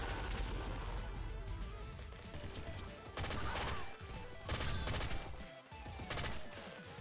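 Rapid gunfire from the top-down shooter Nuclear Throne Ultra Mod, a loud, dense stream of overlapping shots and crashing impacts running almost without pause, with brief dips in intensity.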